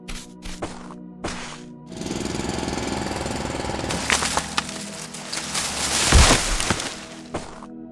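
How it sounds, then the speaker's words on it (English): A mining drill in the video game Foundry grinds and rattles through dirt, rock and trees, with rough harsh bursts, crunchy cracks and a heavy thump near the end, loud and close with no talking. "We have a drill. We can drill biomass. We can drill dirt, sand, rocks, trees."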